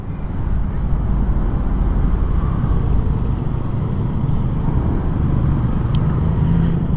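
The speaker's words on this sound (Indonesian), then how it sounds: "ini depan aku nih macet parah sih boy" Dense roadway noise from a heavily jammed street, with a constant loud rumble of engines and tyres close by and a brief higher squeal near the end, nobody talking.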